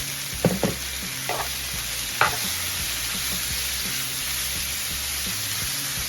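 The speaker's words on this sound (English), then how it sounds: "Listen to that sizzle." Onion sizzles steadily as it fries in a pan for burrito filling, a constant hiss throughout with a few brief stirring scrapes near the start and no talk.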